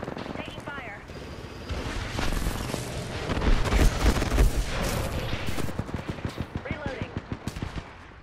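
Rapid video game gunfire rattles loud and close in dense bursts, with heavy booming blasts mixed in and a voice talking over the shooting.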